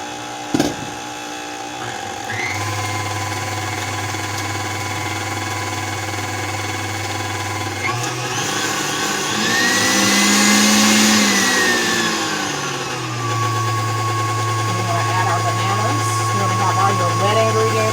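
Electric hand mixer switched on low, whirring steadily as it blends cupcake batter of creamed butter, sugar and eggs for banana pudding cupcakes; a loud continuous motor drone that rises in pitch midway and then settles back.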